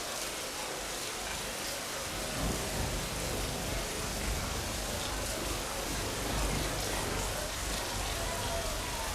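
Steady rain pours down in a continuous dense hiss with low rumbling undertones, loud and unbroken throughout.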